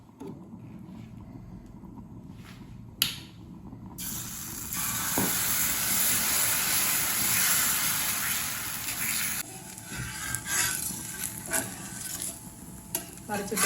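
Wheat ada dosa cooking on a hot pan: a steady sizzle throughout, with some scraping and handling noises in between, close and moderately loud, with no talk.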